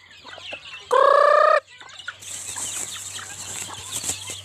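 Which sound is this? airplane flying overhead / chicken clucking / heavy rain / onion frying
chicken clucking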